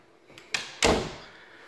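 Pantry door in a newly built custom home clicking and swinging open, a brief latch tap followed by a soft thud, close and alone.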